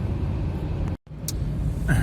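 Cars pass on a quiet Sunday road near Bryansk, heard as a close, steady traffic rumble broken by a brief cut, with no talk over it.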